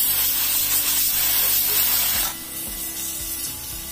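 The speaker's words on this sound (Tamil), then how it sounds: "இது பாருங்கள் ஸ்டீம் வருது." Steam hisses steadily from a pressure cooker boiling chum chum, a Bengal sweet, loud and close, with faint clicks beneath, before dropping to a quieter hiss about halfway through.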